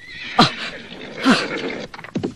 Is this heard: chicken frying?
no